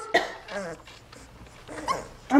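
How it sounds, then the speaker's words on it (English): Puppies barking and whimpering nearby in short, uneven yips and whines, with people talking over and between them. "Oh, look at these puppies."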